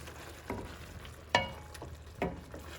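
Seafood goes into a hot pan of risotto, giving a soft continuous sizzle with a few sharper clatters and splashes as the pieces land and are stirred, close and fairly quiet.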